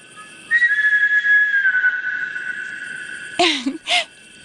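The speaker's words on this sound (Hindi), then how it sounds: "ये सीटी वही बजा रहा है।" A long, eerie whistle from a Hindi-dubbed South Indian horror film holds steady, then slowly falls, followed by two short, sharper whistled bursts, with no talking.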